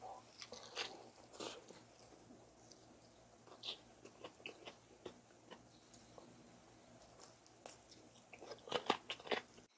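Someone bites into a spicy bhc Maepsoking fried chicken leg and chews, giving a close series of crisp crunches and wet chewing clicks, irregular and soft, growing busier near the end.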